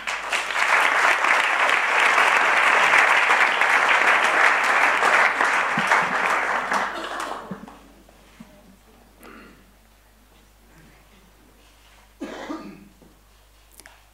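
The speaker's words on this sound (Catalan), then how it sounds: "endavant, un aplaudiment." Loud, dense applause from a concert-hall audience at a cultural forum event, sustained for about seven seconds before fading out, followed by scattered coughs, throat clearing and quiet room noise.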